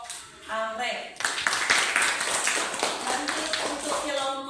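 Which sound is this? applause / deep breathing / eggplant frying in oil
applause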